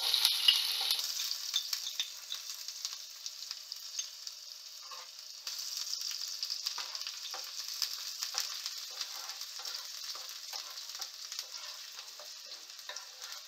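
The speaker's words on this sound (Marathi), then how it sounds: "तेलात आपण आता तेजपत्ता सोडून घेतलाय आणि कांदा टाकून घेऊ" Onion frying in oil with a bay leaf for a spicy soybean curry, a steady close sizzle and crackle throughout with occasional soft stirring scrapes, no talking.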